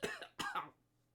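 Two short, harsh coughs in quick succession, close and fairly quiet, then silence.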